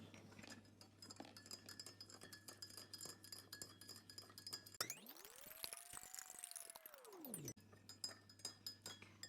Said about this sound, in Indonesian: Diaduk sampai larut.